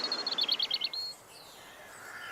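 Bright, high-pitched phrases of a European robin singing in spring along the Ostrach river valley, a quick run of clear trilled notes over a soft steady background, then fading to quiet ambience.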